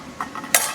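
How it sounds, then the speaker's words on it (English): A spoon stirs beef stroganoff with Dijon mustard in a pan: a few quick, close scrapes and clinks in under a second, the last one brightest, over a faint background. "Give that a quick stir around."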